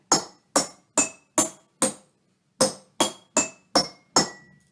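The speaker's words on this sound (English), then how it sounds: "the different shapes of the jars and the different thicknesses of the glass make them sound different" A row of empty glass jars of different shapes and glass thicknesses is struck one after another from lowest to highest pitch: ten clear ringing taps in two groups of five, each ringing briefly and fading, with no voices.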